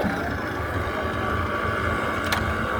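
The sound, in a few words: fishing boat carrying tuna arriving at harbour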